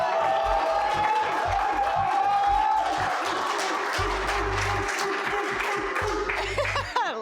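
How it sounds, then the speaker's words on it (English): A studio audience at a game show season finale breaks into sustained applause and cheering, a dense wash of clapping with steady thumping music beats underneath. "and for John, let's get a round of applause."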